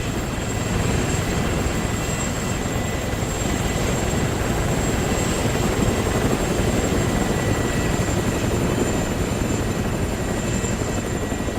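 Helicopter rotors in the video game ArmA 3 give a loud, continuous whirring drone with a steady high engine whine, holding at constant level throughout with no break.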